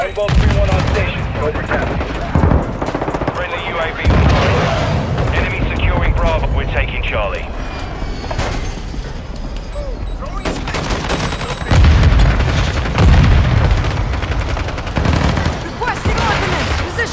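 Mortar strikes explode in Modern Warfare 2 on the Santa Sena Border map, with loud, dense booms and gunfire-like bursts rolling throughout, while players talk over the battle.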